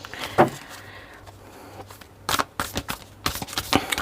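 Tarot cards being shuffled by hand in brief papery bursts, a faint riffle early on followed by several sharp rustling flurries close by, with no talking.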